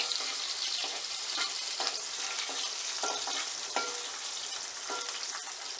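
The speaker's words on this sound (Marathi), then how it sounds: "कांदासुद्धा छान शॅलो फ्राय करून घेऊयात" Onion shallow frying in oil with mustard seeds and garlic, a steady dense sizzle under repeated scraping stir strokes, close and continuous with no voices.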